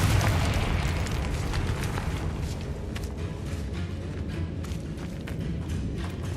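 In Hogwarts Legacy the Confringo fire spell goes off in a dense, booming burst of rumble and crackle that starts loud and slowly settles into a rolling blaze.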